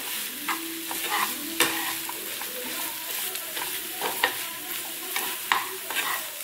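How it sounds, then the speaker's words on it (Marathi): Paneer and bottle gourd rolls are sautéed in a pan over a medium flame, with a steady sizzle broken by frequent scraping taps as they are stirred. "हे व्यवस्थित यात परतून घेऊ आपण।"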